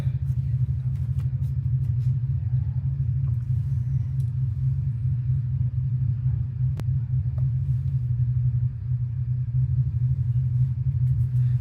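A continuous low engine rumble carries over from cars at a drag strip next door, heavy and unbroken for the whole stretch, with a few faint clicks above it.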